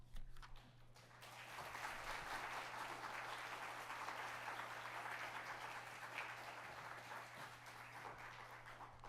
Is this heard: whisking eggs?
no